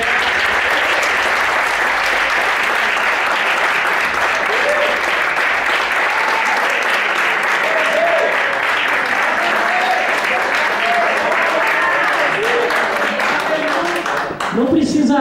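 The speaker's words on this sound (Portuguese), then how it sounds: "Quem entendeu adorar a Deus com as suas palmas?" A church congregation claps during a service, with steady sustained applause filling the room and voices calling out and murmuring underneath before it cuts off near the end.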